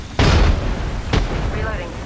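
A grenade goes off in a sci-fi shooter video game, a loud close boom with a second, sharper burst about a second later, followed by electronic game tones.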